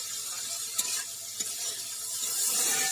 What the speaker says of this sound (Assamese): আৰু মই কেঁচা জলকীয়া দুটা দিছোঁ আৰু তেল সৰহকৈ দি এইখিনি ভাজিছোঁ।